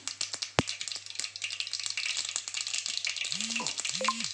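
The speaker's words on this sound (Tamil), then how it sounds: "அதோடய வெங்காயம் கருவேப்பில்ல பச்சை மிளகாய் சேர்த்து நல்லா வதக்கி எடுத்துக்கலாம்" Onion, curry leaves and green chillies sauté with dried red chillies in a pan for a fish curry, giving a steady, close, bright sizzle with a few stirring knocks and brief tonal squeaks toward the end.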